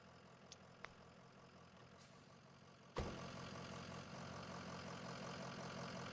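A snow plow truck engine in the Snow Plow video game fires up abruptly after a quiet few seconds with faint clicks, then settles into a steady, close, rumbling idle.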